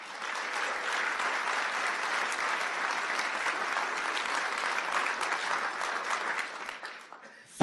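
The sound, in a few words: town board meeting audience applause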